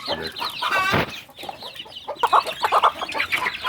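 Free-range village chicks cluck and cheep in a steady, busy chorus close by, with bursts of overlapping calls throughout and no talking.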